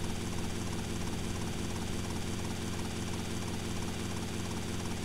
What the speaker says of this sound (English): It's a ridiculously fast helicopter, which we'll use for the next couple of missions now.